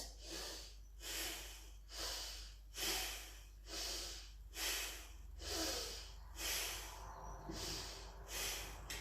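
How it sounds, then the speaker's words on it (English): Rhythmic pranayama breathing during a yogalates workout, about nine forceful, close-up breaths in and out in a steady cycle, each a loud airy rush, with no talking. "So breathing in, breathing out."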